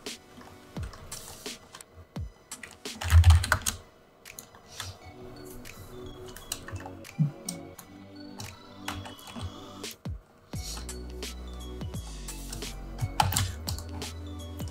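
Computer keys clatter in irregular bursts as commands are typed for a Minecraft mod, close and fairly quiet, with a few sharper clicks and no talk.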